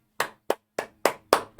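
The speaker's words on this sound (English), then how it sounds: "Round of applause for Mr. Mark Basile there." Six separate, crisp hand claps ring out in an uneven rhythm, close and fairly loud, with short silences between them, the brief scattered applause of a small audience honouring a speaker at a public hearing.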